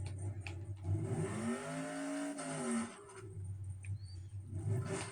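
Truck engine in the MX vs ATV Reflex racing game revs up with a rising, sweeping roar that peaks mid-clip and settles into a steady low drone, loud and close with no talking.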